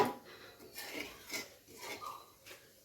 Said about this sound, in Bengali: এবারে ফোড়নটাকে ভালো করে তেলের সাথে নেড়ে চেড়ে নেব।